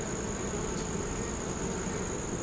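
Honeybees buzz around a beehive on a farm in a steady, dense drone with a thin high whine running through it. The swarm is close and there is no talk.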